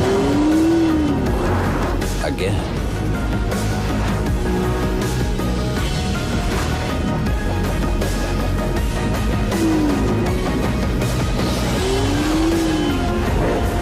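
A 2016 Porsche 911 Turbo sports car drives hard, its engine roaring loud and close throughout with rising and falling revs and brief tire squeals, under swelling music.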